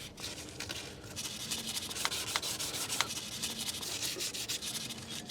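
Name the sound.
scrubbing clean the gasket surface of a BMW M57 oil pan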